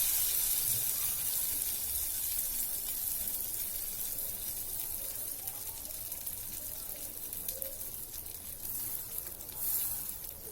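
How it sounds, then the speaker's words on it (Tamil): Wheat flour appam batter fries in a pan over a medium flame, giving a steady close sizzle and hiss that runs throughout with no pauses and no voices. "இப்ப ஃப்ரை பண்ணிடலாம்"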